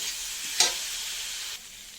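Spice masala sautéing in a pan makes a soft, steady hiss, with one brief scrape of stirring early on. The sizzle quietens slightly near the end, and no one speaks.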